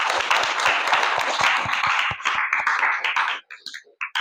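A class bursts into loud, dense clapping that holds steady for a few seconds, then thins into a few scattered claps and falls silent.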